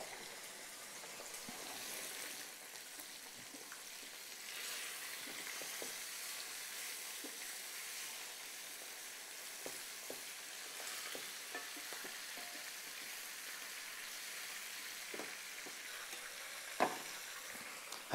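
Chicken fries in a pot with garlic, black pepper, cumin, paprika, turmeric and ginger as it is turned over, giving a soft, steady sizzle with scattered scrapes and clicks and one sharper knock near the end.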